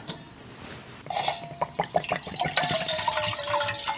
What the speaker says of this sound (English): We're gonna set our cup on top.